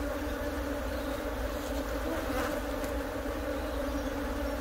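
A honey bee colony in a hive full of honey and brood frames hums with a steady, dense, continuous buzz close by, unbroken across the whole stretch with no talk.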